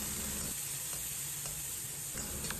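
Pork belly, ginger slices and garlic slices stir-fry in a wok with a loud, continuous sizzle and spatter, while a spatula scrapes and stirs in short, regular strokes.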